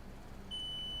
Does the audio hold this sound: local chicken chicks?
no